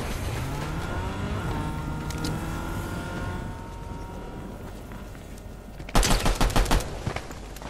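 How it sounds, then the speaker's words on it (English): Several cars drive close by in a squad-based shooter game, their engines rising and falling in pitch under steady game noise, followed near the end by a loud burst of rapid gunfire. "I'm hearing them cars, brother."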